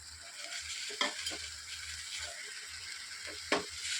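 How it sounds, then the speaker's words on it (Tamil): Cluster beans with masala, sesame, coconut and garlic being stirred in a pan: a soft, steady sizzle with two sharper scraping strokes of the spoon. "நல்லா ஒரு முறை நல்லா கலந்து விட்டுறலாம்."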